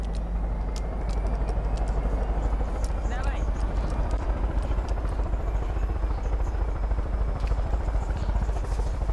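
Helicopter from the game Far Cry 5 lifting off and flying, a steady loud rotor drone with rapid chopping throughout and faint chatter underneath.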